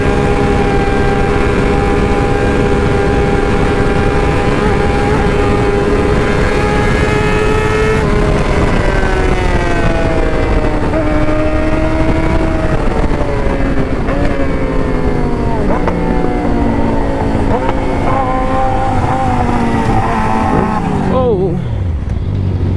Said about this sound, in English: So today we are riding a 2019 MT07.